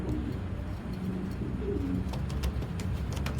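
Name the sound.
racing pigeons cooing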